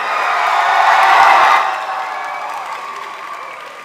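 A high school assembly crowd of seniors cheers and claps together in a loud roaring swell that peaks, then tapers off into a lower, fading crowd noise.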